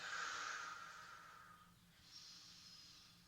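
A person doing Pilates breathes in through the nose and then exhales, two soft, close airy breaths, the first stronger and the second fainter, with no talking.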